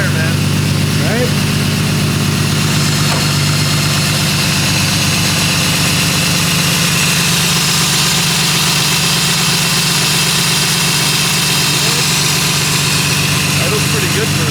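A BMW E30 engine idles steadily just after being started, a low continuous rumble with a slightly uneven, chugging pulse that holds close and fairly loud throughout, with voices talking faintly nearby.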